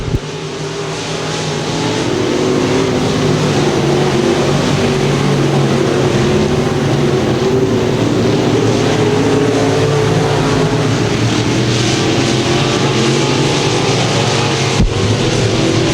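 Race cars roar around the Thunder Hill track during a nighttime heat race, a loud, steady, continuous engine drone that swells in over the first two seconds and then holds near and dense throughout, with no audible commentary.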